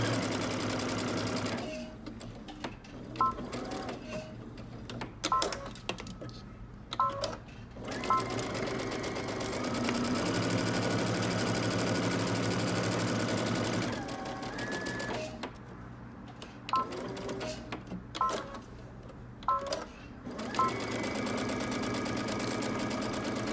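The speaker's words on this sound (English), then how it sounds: "we're going to stitch along the angled ends and across the bottom" Sewing machine stitching a jacket collar with interfacing at a 5/8 inch seam, in repeated bursts of rapid mechanical clatter separated by short pauses, close and fairly loud with a steady hum underneath.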